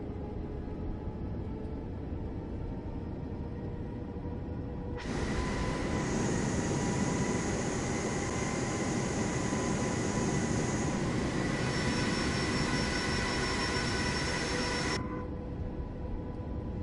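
Boeing 737 jet engines taxiing in Flight Simulator 2024 give a steady, dense roar, and a louder, brighter whine with a high tonal note swells in the middle section before settling back to the lower drone.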